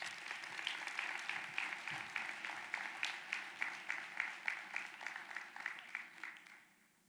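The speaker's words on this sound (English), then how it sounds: "Let's applaud Sydney as she comes" A luncheon crowd applauds a scholarship recipient, the dense clapping settling into a rhythmic, slightly uneven beat before tapering off into quiet at the end.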